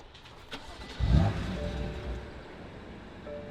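A BMW M4 fitted with a new exhaust starts up nearby, a brief crank and bark settling into a steady, fairly quiet idle, with no talking.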